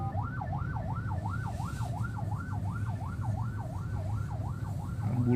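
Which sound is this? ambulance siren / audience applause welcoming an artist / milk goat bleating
ambulance siren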